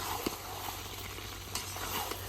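Meat being stir-fried (koshano) in a pan in a village kitchen, a quiet, steady sizzle with a few faint scraping stirs, no voices.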